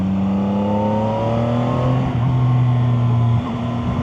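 Three-cylinder Chinese motorcycle engine pulling hard, its roar rising steadily in pitch as it accelerates, then easing off briefly near the end; loud and close with no voices.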